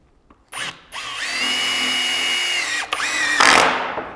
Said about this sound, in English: I'll also fasten right through this to my studs